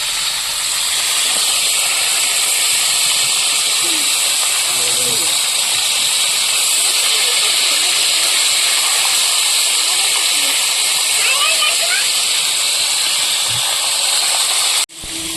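Oil sizzles loudly and steadily throughout as bhola fish fries on low heat, a dense continuous hiss that stops abruptly at the very end.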